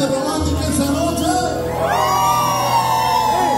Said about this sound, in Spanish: A ver que se escucha fuerte el grito de la gente romántica esa noche.